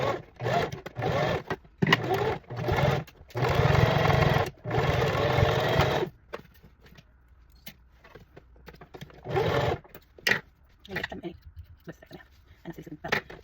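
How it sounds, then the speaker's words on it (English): A sewing machine stitches fabric for a Caring Hands cocoon angel gown, running in several loud whirring bursts of a few seconds each, separated by pauses and lighter handling sounds. "I'm just going to run it through the machine."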